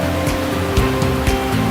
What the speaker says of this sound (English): The river is a lot fuller.